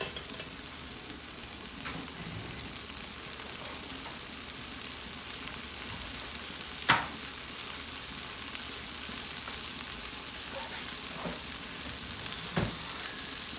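A Puerto Rican rice mixture is stirred in a pot, with a faint, steady sizzle and a few sharp scrapes and taps of the spoon scattered across the stretch.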